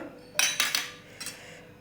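A metal spoon clinks and scrapes against a pot while cooked rice is mixed with ghee for rice kheer, a few short close knocks and scrapes.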